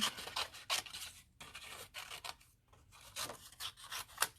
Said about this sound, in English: let's quickly trim these little pieces out